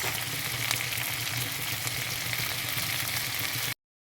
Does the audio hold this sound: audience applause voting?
no